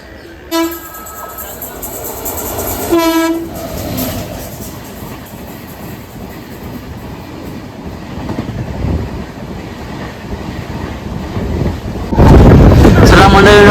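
A moving passenger train rumbles past with a couple of short horn toots early on, then a loud surge of rolling noise near the end.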